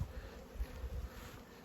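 A honey bee swarm that has escaped its hive gives off a steady, close, low buzzing that swells and dips slightly over a brief moment.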